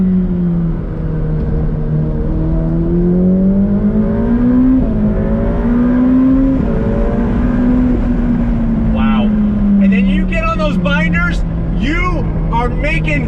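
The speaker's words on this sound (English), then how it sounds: "On throttle," A 2020 Ferrari F8 Tributo Spider accelerates hard under throttle, its engine note climbing and holding as a loud, close roar. Someone talks over it near the end.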